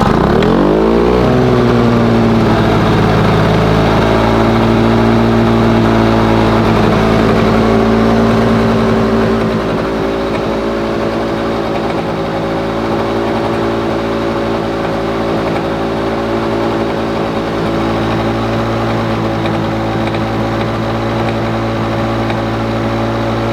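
A Lawn Boy lawn mower engine being tuned starts up with a quick rising rev, then settles into a loud, steady, buzzing run that holds unchanged for over twenty seconds with no talking.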